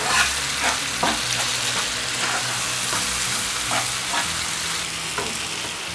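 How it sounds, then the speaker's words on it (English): Seasoned spaghetti sauce ingredients with curry, salt, thyme and a bay leaf fry in a pan, giving a constant close sizzle broken by periodic scraping stirs. "So you mix it all together and then fry."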